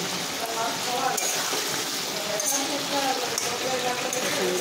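Mutton and potatoes being stir-fried together in a pan without salt, giving a steady, close sizzle and frying hiss with occasional scraping stirs and soft clinks throughout.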